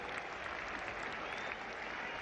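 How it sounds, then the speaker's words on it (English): The crowd and the England fielders at the Oval applaud Gary Sobers reaching fifty in the 1973 England v West Indies Test, a steady, distant-sounding wash of applause that stays even throughout. "Applause too from his opponents, the England team. Very generous, and their applause here for Gary Sobers."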